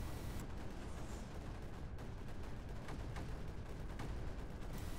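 Snipers firing in the strategy video game Creeper World 4, a dense run of repeated sharp gunshot cracks over a steady loud rumbling backdrop, no voices.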